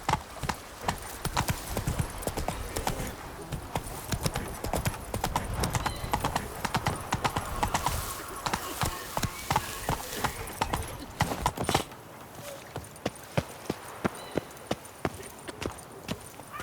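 Roach, the horse in The Witcher 3, gallops with a rapid, steady clip-clop of hooves running the whole stretch, loud and close, easing to lighter, sparser hoofbeats near the end.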